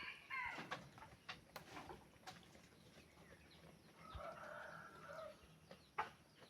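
A bantam chicken clucks in short, scattered bursts outdoors, moderately close, with a few louder calls standing out against quiet rural background noise.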